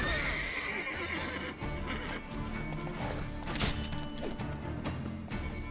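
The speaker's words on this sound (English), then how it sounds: "So many horses, they are not." Horses neigh in The Witcher 3: Wild Hunt game, with loud whinnies over clip-clopping hooves and a crash, all set in busy game sound.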